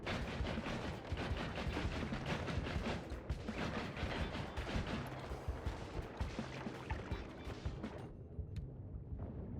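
Bombs and missiles in the game Noita, including a holy bomb, crackle in a rapid, continuous barrage of small blasts, like dense gunfire, for several seconds before thinning out at the end.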